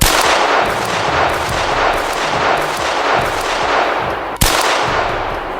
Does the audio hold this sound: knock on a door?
no